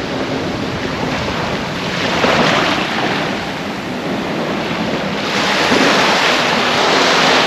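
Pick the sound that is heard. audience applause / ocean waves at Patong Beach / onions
ocean waves at Patong Beach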